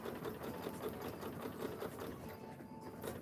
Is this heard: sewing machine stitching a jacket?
yes